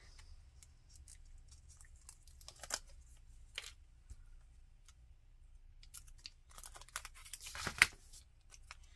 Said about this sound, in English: I'm going to cut it right in half.